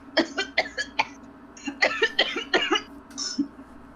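A voice imitates coughing with a string of short, dry coughs in quick bursts, close and clear, with no other talk.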